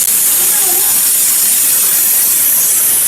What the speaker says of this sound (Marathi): आता आपण याचे 7 ते 8 शिट्या करून घ्यायचे आहेत